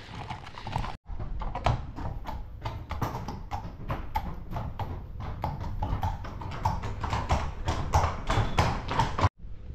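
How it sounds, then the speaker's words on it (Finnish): Several horses walk outdoors, their hooves clip-clopping in a dense, steady, close-up patter that carries on throughout, with no voices over it. "Hevoset on nyt ulkona ja ne pääsee pikkasen kävelemään."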